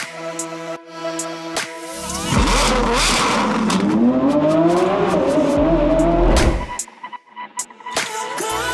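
A 720 hp Porsche with a custom setup revs hard, a loud sustained engine roar with rising pitch lasting several seconds, preceded and followed by quieter idle and mechanical noise.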